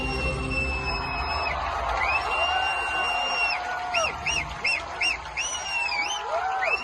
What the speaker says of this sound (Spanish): la gente se emocionó, estaba gritando en la película.